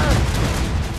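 Dense, rumbling volley of cannon and gunfire from a ship battle in the video game Assassin's Creed Rogue, a loud continuous barrage of booms with no gaps, briefly filling the moment.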